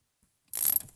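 A ratchet wrench tightening a 10 mm battery terminal bolt on a Jeep Grand Cherokee, heard as one short burst of close, crisp clicking that quickly fades out.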